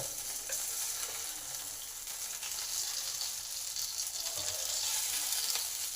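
Fish frying in oil in a pan for a Bengali home-style lunch, a steady soft sizzle and crackle running continuously at low level with no talk.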